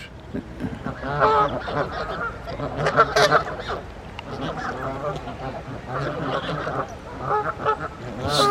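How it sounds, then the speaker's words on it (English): Canada geese honk repeatedly at close range in a park, a loud, overlapping series of nasal calls in irregular bursts, with some voices talking alongside. "quite a conversation with a Canada goose"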